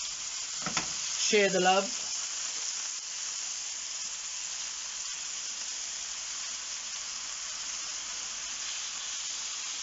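Steak searing in hot oil in a pan, a steady broad sizzle running the whole time, with a brief louder burst of speech near the start over the frying.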